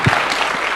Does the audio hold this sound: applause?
yes